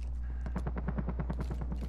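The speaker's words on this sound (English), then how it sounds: "I hear gunfire" Rapid automatic gunfire rattles in a Call of Duty: Modern Warfare match, a fast regular burst of shots sounding somewhat distant beneath a low steady hum.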